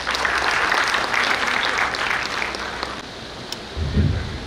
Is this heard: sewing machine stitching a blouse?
no